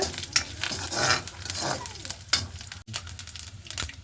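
Curry leaves sizzle in hot oil in a pan, with a close crackling hiss broken by stirring clatter, fairly loud and uneven over a few seconds.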